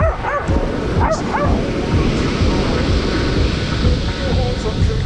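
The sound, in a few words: dog barking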